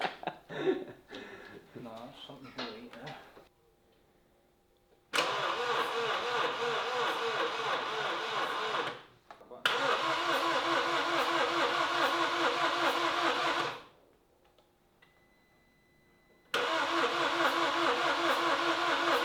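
A rebuilt Mini Cooper engine cranks and runs in bursts, loud steady engine noise stopping and restarting several times with short quiet gaps between, after people talk at the start.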